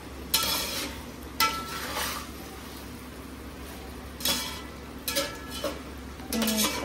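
Chicken biryani masala fries in a pan while a spoon stirs it, giving a steady soft sizzle broken by several scraping, clinking stirs against the pan.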